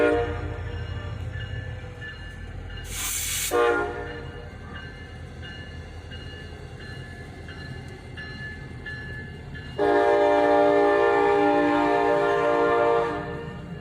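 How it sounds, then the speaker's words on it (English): A CSX local freight train switches cars at Leo Street, its diesel engine rumbling low as the horn blows twice, first briefly and then in a long loud blast, with a sharp squeal between. "we're at Leo Street to catch the CSX local doing a switching job."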